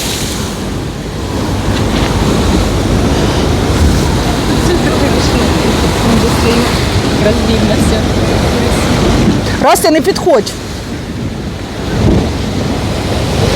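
Large sea waves surge and break continuously onto a slippery shore at Langeron beach in Odesa, a loud steady wash with a heavier crash near the end, while people talk and call out over the surf.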